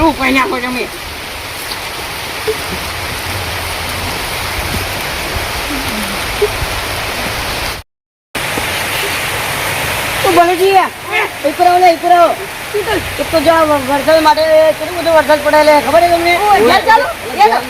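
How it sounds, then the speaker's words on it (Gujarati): Steady rain hisses loudly and continuously close by; partway through, people start talking over the downpour. "તો વરસાદ નું વાતાવરણ છે"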